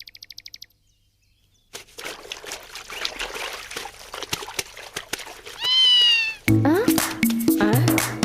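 A cat meows several times in a domestic scene where laundry is being washed, rising and falling cries in mid-clip followed by more calls over a louder background, with short beeps at the start.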